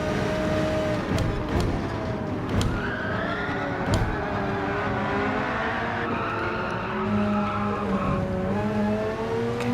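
A race car engine sustains a loud, continuous drone after an upshift into sixth gear, its pitch sweeping gently up and down with a few sharp transient clicks and rattles over a steady roar.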